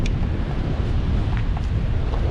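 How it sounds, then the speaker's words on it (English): Steady, loud wind at the coast during sea fishing on a gusty day, buffeting the microphone in a constant rumbling roar with no pauses. "So yeah, it's windy."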